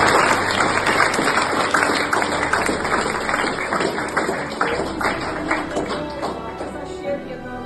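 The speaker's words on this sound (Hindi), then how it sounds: "तालियां" A school gathering claps for meritorious Class 12 students, a loud burst of many hands that thins and fades gradually over several seconds.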